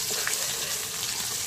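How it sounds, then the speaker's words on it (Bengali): Three crushed garlic cloves added to about 70 grams of hot oil with a teaspoon of whole white cumin, giving a steady, close, broadband sizzle with no talking. "3টা থেতো করা রসুন দিচ্ছি।"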